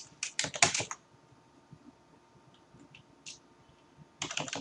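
Typing on a computer keyboard, quick bursts of close, crisp key clicks at the start and end, with a quieter gap of scattered taps between.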